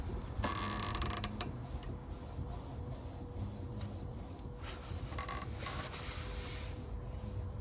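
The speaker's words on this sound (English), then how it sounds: "Start by putting a screwdriver through the gap in the caliper, just like this, and pry it the full way back" A screwdriver pries a brake caliper piston back on a Range Rover L322, giving close, intermittent metallic creaks and scraping clicks in short bursts over steady background noise, with no speech.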